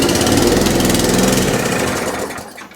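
A small lawn mower engine pull-started, fires and runs with a rapid buzzing putter, loud and close, then winds down and fades out toward the end.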